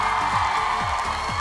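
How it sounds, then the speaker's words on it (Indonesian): A large crowd at an Indonesian televised music talent show cheers and applauds continuously for two performers, a dense, loud wash of noise throughout, with low swooping tones repeating underneath. "Tepuk tangan sekali lagi buat mereka berdua dong."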